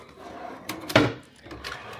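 A small bedside drawer in an Encore by Wynn hotel room slides and knocks shut in one brief, close wooden clatter against a quiet room.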